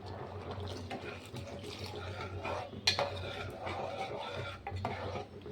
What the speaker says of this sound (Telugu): ఒక గ్లాస్ వాటర్ పోసుకొని కలుపుకుందాం.